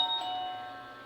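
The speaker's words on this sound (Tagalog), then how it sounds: "Wireless na doorbell." A wireless doorbell plays its ringtone chime, a sustained tonal ding with ringing overtones fading over about a second, then a sharp new note starts just as it ends.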